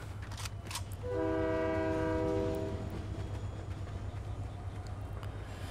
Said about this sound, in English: Maybe we can hop this train.